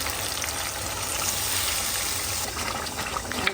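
Water pours steadily over fresh market fish during cutting, a close, continuous rushing trickle with no pauses throughout.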